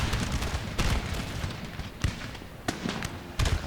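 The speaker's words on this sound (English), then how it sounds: "They're opening fire. Keep firing." Musket volleys in a Napoleon Total War battle: repeated sharp, loud gunshot cracks, scattered and overlapping across the line, with several distinct reports standing out over a continuous rumble of distant firing.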